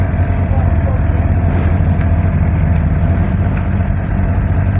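A Suzuki GSX-R750 motorcycle engine running at a steady idle, a loud, constant low rumble with no change in pitch, close to the microphone.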